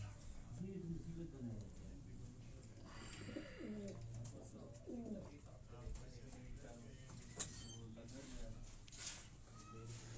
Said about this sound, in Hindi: इखलाक भाई के 2-3 कबूतर हैं